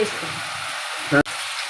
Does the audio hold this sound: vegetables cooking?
yes